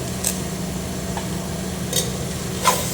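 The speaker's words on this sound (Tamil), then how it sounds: "பட்டை கிராம் போட்டுக்கிறேன்" Cinnamon and cloves dropped into hot oil for a potato mutton gravy, giving a soft steady sizzle with a few light clicks of a utensil against the pan.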